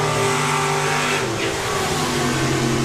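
Drag racing cars launch side by side from the start line at a drag strip event, a loud, steady engine roar filling the whole stretch with a brief swell near the middle.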